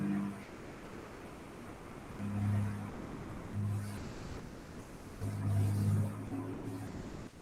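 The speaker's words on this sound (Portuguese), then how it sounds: "Ô, caminhão passando, desculpa aí, gente." A truck passes by outside, a low engine rumble that swells and fades in several surges of rising and falling noise, heard from a distance with no speech over it.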